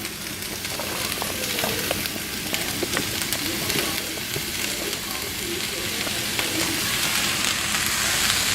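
Tomatoes and onions fry in a skillet with a steady, close, even sizzle and faint crackles throughout.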